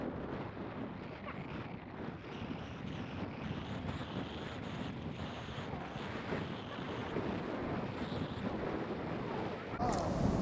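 Steady wind roar and rushing water during windsurfing, heading upwind at good speed, a dense continuous wash buffeting the microphone for the whole stretch, with a brief sharper gust near the end.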